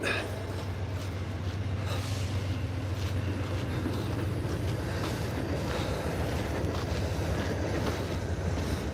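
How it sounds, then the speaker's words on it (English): An Amtrak passenger train rumbles by continuously at close range, a steady loud roar with faint rail clatter, and no talk over it. "Oh, it's an Amtrak. Cool."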